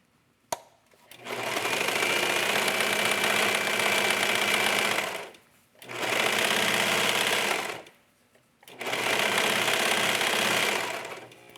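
A sewing machine runs in three long bursts while stitching slippery mesh fabric into a yoga top, its rapid steady whirring close and clear, separated by short pauses, with a small click at the start.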